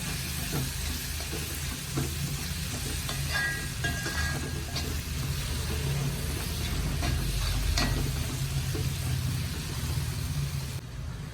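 Tomatoes fry in hot oil in a pan for a squid masala, giving a steady close-up sizzle and bubbling with occasional soft stirring scrapes throughout.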